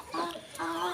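Chickens cluck in a poultry yard where hens and chicks are kept, two short, close, tonal clucking calls in quick succession.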